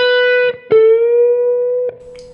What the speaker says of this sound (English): the note gradually turns into the next note because you're bending the string.